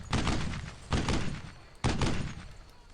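Panzerfaust fire during a night patrol in the Brothers in Arms: Earned in Blood video game, three heavy booming blasts about a second apart, each followed by a decaying rumble.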